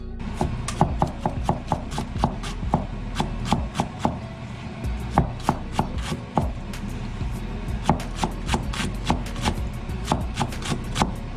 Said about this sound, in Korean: 이 배추를 제가 썰어서 이제 다져가지고